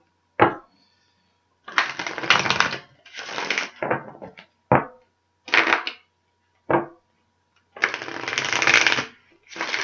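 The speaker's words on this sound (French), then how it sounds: "Je vais encore brasser un peu plus les cartes." Close, crisp riffle shuffling of a deck of cards in several separate bursts, each a rapid fluttering rush of card edges, separated by short silent gaps.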